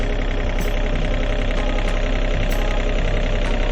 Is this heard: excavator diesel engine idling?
yes